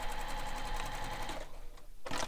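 A sewing machine runs basting stitches on backpack fabric: a rapid, close mechanical whir for about a second and a half, a brief pause, then a short burst as it starts again.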